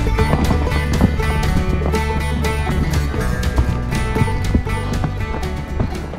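Pack horses plod along a Sawtooth Mountains trail toward the Ross Fork Lakes, their hooves clopping steadily over a thick, continuous layer of tonal music-like sound.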